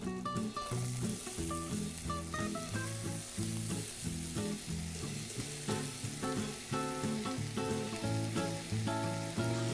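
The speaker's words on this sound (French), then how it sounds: "le beurre est bien moussant. On va mettre notre poireau." Leek dropped into foaming butter sizzles steadily and fairly loudly, with a continuous crackling spatter running the whole time, while music plays underneath and no one speaks.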